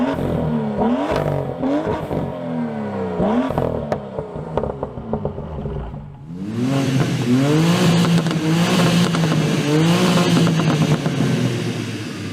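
A new BMW M2 six-cylinder engine revs hard through repeated rising pulls with gear shifts, loud and close, then a burbly exhaust note rises again under strong acceleration.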